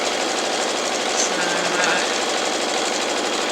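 A sewing machine stitches a quilt block with a 1/4 inch foot, running as a steady, continuous mechanical buzz close by and at an even level throughout, with no clear pauses.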